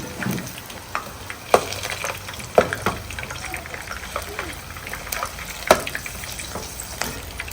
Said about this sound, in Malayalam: നമുക്ക് വേറെ വേറെ ആയിട്ട് വറുക്കണം.